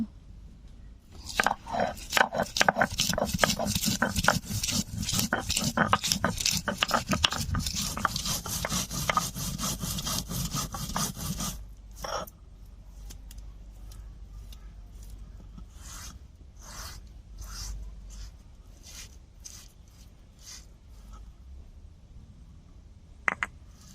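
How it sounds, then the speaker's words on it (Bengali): Green chillies being ground on a traditional grinding stone: dense, rapid rasping strokes of stone on stone for about twelve seconds, close and loud, then sparser, quieter scraping strokes continue to the end. "কাঁচা লঙ্কা বেটে নিচ্ছি"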